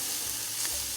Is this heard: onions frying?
yes